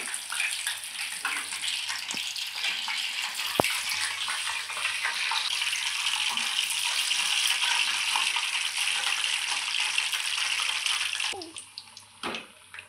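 Mirchi bajji, salted chillies in batter, frying in hot oil with moisture sputtering off, a dense continuous sizzle and crackle held for many seconds, then easing off near the end with a few clatters.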